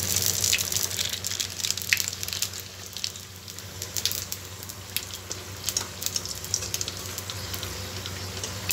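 A dried red chilli and five-spice seeds sizzle as they are tempered in hot oil in a kadai, with a steady crackling hiss, small pops, and a faint underlying rumble.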